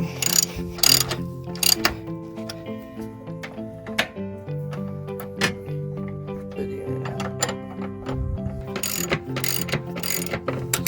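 Ratchet wrench snugging a bolt on a rear shock bracket of a 2013-2017 Buick Enclave, Chevrolet Traverse or GMC Acadia, with repeated close clicking pawl strokes in bursts over a steady mechanical hum, no talking.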